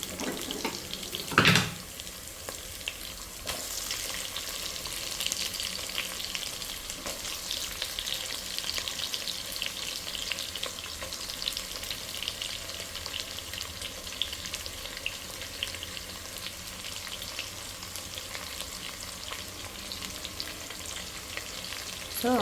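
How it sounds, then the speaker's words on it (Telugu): Green chillies and onions frying in oil, a continuous close sizzle and crackle with a brief clatter early on as the onions go in; no voices. "సో గ్రీన్ చిల్లీ అయితే ఫ్రై అయిపోయాయి. ఇప్పుడు ఆనియన్స్ యాడ్ చేసేద్దాము."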